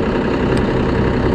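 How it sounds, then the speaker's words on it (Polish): A Case IH Puma 200 CVX tractor with CVX continuously variable drive, its engine running with a loud, close, steady low rumble throughout, no talk over it. "No ładnie Puma mruczy, bardzo fajnie się jeździ z CVX drive'em"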